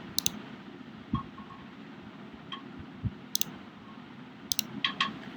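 A computer mouse clicks several times at irregular intervals, sharp close ticks over a low, steady background hum.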